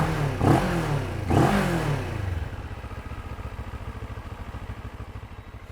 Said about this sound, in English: Let's do a quick sound test with the stock exhaust of the